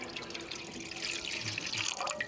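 Water is splashed and stirred by hand as a percussion sound effect, producing bright, irregular sloshing and dripping that grows livelier toward the end, with no voices.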